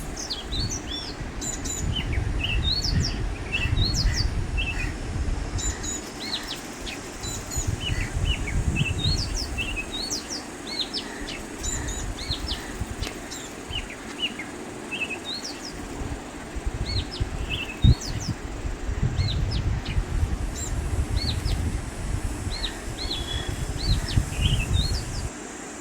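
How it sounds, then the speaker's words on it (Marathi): Birds sing and chirp repeatedly in short bright phrases, fairly close, over a low rumble of outdoor background noise, in rural Konkan, India. "एवढे पक्ष्यांचे आवाज आपल्याला छान ऐकू"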